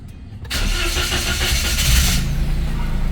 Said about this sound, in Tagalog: naglulong cranking siya bago mag-start.